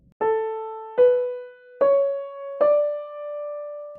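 Four rising notes of a Mozart aria line in D melodic minor on a piano-like instrument, evenly spaced, each struck clearly and left to ring, with no voices.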